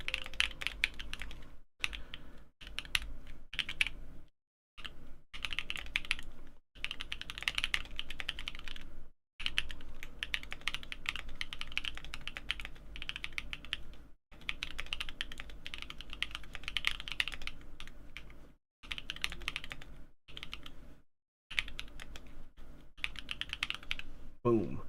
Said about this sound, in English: I like poppy sounding keyboards.